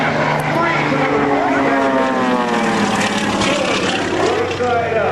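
A propeller airplane flies a hesitation roll at the 2004 Rhode Island Air National Guard open house and airshow, giving a loud, sustained engine drone whose pitch sweeps and wavers as the plane maneuvers overhead.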